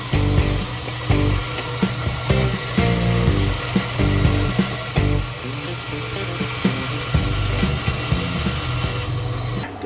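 A power saw shaving a quarter inch off a piece of wood during a box truck camper build, a loud continuous whine with rough grinding pulses running throughout.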